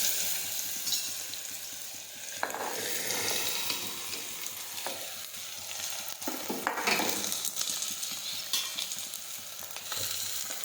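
Chopped bottle gourd tossed into hot oil with sizzling mustard seeds, cumin and asafoetida, a loud continuous frying sizzle with clattering stirring in a pan, close and without talking.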